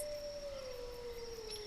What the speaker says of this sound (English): You hear a wolf howling in the far distance.